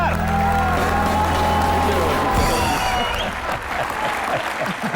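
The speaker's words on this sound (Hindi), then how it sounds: "तालियां एक बार।" A studio comedy-show audience claps steadily for Prem Chopra, a dense wash of applause with some cheering that runs the full length, a voice speaking over the start before the clapping carries on alone.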